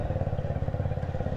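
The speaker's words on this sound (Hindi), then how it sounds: "मैं निकल चुका हूँ बाइक लेकर घर से।" A motorcycle on an early-morning ride after rain gives a steady, pulsing engine thrum, close and continuous, with no voices over it.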